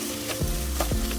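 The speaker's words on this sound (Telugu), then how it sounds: "మూత లేకుండా అయితే ఇలా ఫ్రై చేసుకుంటూ ఉంటే సరిపోతుంది" Vegetable curry frying in an open pan with no lid, giving a steady close sizzle with faint stirring scrapes, no voices over it.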